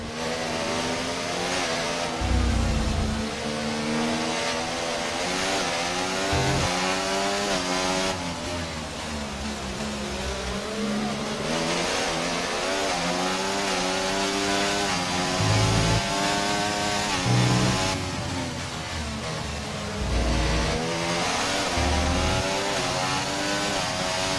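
Formula 1 car engines race in the F1 24 game at the Brazilian Grand Prix, high revving whines rising and falling continuously through gear shifts, loud and sustained, with several cars close by.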